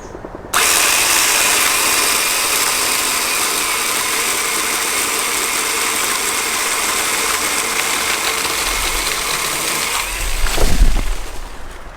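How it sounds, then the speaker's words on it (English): Ryobi OPP1820 cordless pole saw cutting through a tree branch outdoors, a steady loud chain-saw whine running continuously for about ten seconds, then a brief thump and crack near the end as the cut finishes, with no talking. "Then we'll just rest the saw on the top and then we can cut down."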